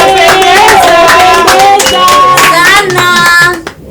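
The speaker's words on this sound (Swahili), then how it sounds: "simupige shangwe na vigele" Guests at a traditional wedding cheer and ululate loudly, with wavering high trilling voices close by and scattered clapping mixed in throughout.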